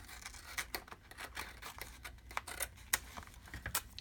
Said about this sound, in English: I'm going to take my scissor and I'm going to come inside here and we're going to just trim off these edges